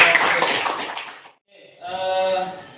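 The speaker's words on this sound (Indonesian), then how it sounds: "Tepuk tangan dulu." A classroom of students claps briefly together for a classmate, a burst of hand claps that stops, then talk resumes after a short pause.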